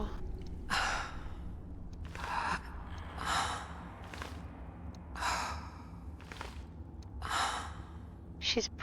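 A horse in Skyrim breathing hard, with loud, rhythmic heavy exhalations and snorts repeating roughly every second, close and clear over a low background hum.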